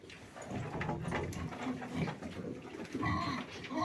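Pigs grunt and snuffle nearby in a low, continuous jumble, with a few brief clatters in the background.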